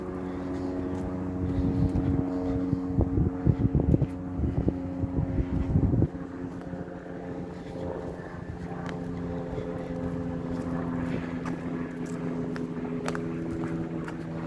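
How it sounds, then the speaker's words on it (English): Low, steady rotor and engine drone passing overhead, louder for the first few seconds then fading to a constant distant hum with wind noise. "Can hear a helicopter going above."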